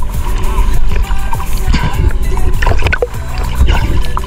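Loud water splashing and sloshing as a wooden bangka boat is pushed and slid into the water, with thuds and gurgles close by.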